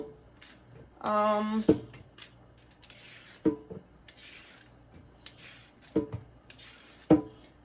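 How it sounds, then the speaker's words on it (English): Carrots being peeled by hand, short rasping scrapes repeated at irregular intervals with quiet pauses between strokes and a few clinks. "I have already washed my carrots, so that's why I'm peeling them right now."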